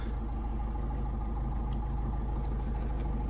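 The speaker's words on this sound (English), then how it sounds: "in the end, we have a running car" Car engine idling steadily after its immobilizer was removed, a faint, even low rumble with a regular pulsing beat throughout and no voices.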